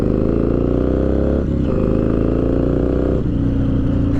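A custom early-2000s chopper with a hard-mounted V-twin accelerating hard on an open road, a loud, close, throbbing engine note climbing steadily in pitch with two brief dips at gear shifts.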